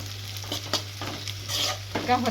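Onions fry in a pan with a steady close sizzle and periodic stirring scrapes, alongside a constant low hum in the background.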